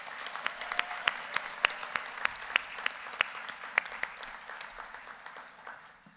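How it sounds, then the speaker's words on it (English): Audience applause for graduates at a graduation ceremony, a steady wash of many hands clapping with distinct sharp claps standing out, fairly quiet and distant, tapering off toward the end. "Can we please have a round of applause for all of our incredible JPCI graduates?"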